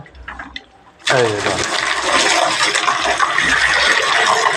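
Water gushing from a pipe on a construction site, starting abruptly after a second of quiet and continuing as a loud, steady splashing rush.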